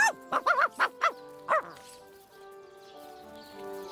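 A dog barks in Divinity: Original Sin, a run of short, close barks and yips in quick succession, followed by quiet musical ambience.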